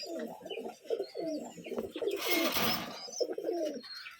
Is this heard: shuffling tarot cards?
no